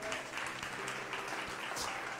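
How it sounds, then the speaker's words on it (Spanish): A church congregation applauding during a sermon, a steady wash of many hands clapping at moderate distance, fairly even from start to finish. "Dele palmas."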